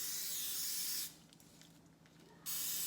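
Cooking spray hisses onto seasoned chicken wings being readied for baking until crisp: one steady close burst of about a second and a half, with no talk.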